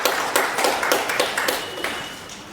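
Audience at a talk on opportunities in print, television, digital and film media claps in a quick burst of applause, a run of sharp overlapping claps that thins out over a couple of seconds.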